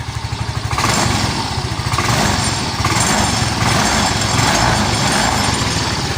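A Yamaha Mio i125 scooter engine runs with its oxygen sensor unplugged, a loud, close, steady rapid putter that holds throughout.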